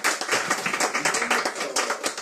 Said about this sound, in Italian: Un applauso anche per Nicola, grazie.